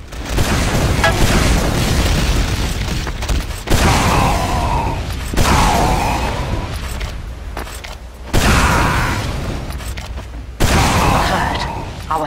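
Loud booming grenade blasts during a Team Fortress 2 match on the cp_snackwater control-point map, several heavy bursts spaced a few seconds apart amid dense game noise, with voices talking over the action.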